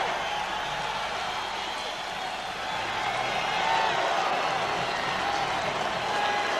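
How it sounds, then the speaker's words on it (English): Crowd at a boxing arena applauds during the James Toney versus Michael Nunn IBF middleweight title fight, a broad distant wash of clapping and murmur that swells slightly midway. "Should hear a big sound of applause now."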